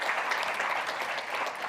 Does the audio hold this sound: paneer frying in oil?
no